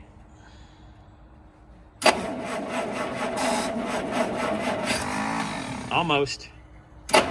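A 1950 Studebaker Champion engine cranks with a loud, steady whirring churn for several seconds, briefly catches and sputters, then drops off near the end, with a voice speaking once over it.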